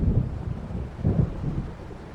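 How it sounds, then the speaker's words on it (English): Deep rolling thunder from an approaching storm in the game Alan Wake Remastered, low rumbles swelling twice with wind and faint rain underneath, no talking. "It seems there's a storm coming."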